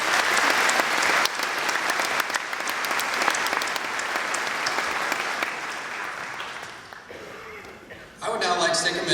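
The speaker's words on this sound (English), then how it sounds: "One more round of applause for them." An audience at a senior awards ceremony gives a sustained round of dense applause that stays loud for most of the stretch, fades, then briefly swells again at the end.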